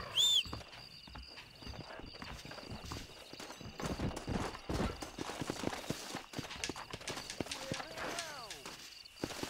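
Horse hooves clip-clop in a steady rhythm while riding in the video game Red Dead Redemption, with a brief whinny near the start and someone talking over the hoofbeats.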